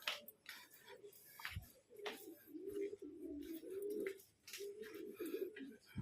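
Soft, low pigeon coos repeat in short phrases amid rustling and faint chirps nearby.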